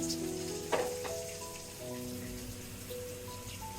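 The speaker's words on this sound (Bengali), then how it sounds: "এখন গুঁড়া মশলাগুলা দিয়ে দিচ্ছি, এগুলো একটু জল দিয়ে গুঁড়ে নিয়েছি।" Hot oil hissing and sizzling as powdered chili, turmeric, coriander and cumin mixed with water go into the pan, a sharp burst at first settling into a soft, steady crackle without voices.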